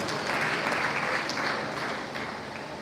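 Steady applause from an audience at an inter-tertiary debate competition, a dense wash of clapping that holds evenly and eases off slightly toward the end, with no talk over it.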